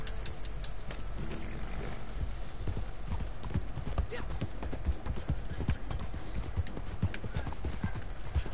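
A horse galloping in Red Dead Redemption 2 Online, rapid rhythmic hoofbeats continuing throughout, close and steady, with a person talking over them.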